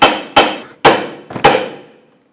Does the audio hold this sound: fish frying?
no